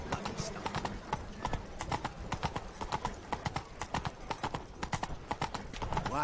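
Roach, the horse in The Witcher 3: Blood and Wine, gallops in a brisk, steady clip-clop of hooves while a voice speaks over the running rhythm.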